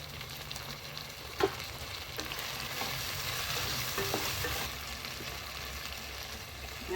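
Tomatoes go into ginger garlic paste frying in a pan for a village-style mutton intestine gravy, giving a steady, fairly quiet sizzle with a few stirring scrapes and no talking.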